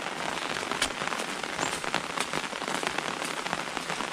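Rain falls steadily and densely on a surface beside a fishing trap, a continuous close hiss flecked with sharp individual drop impacts, with no talking.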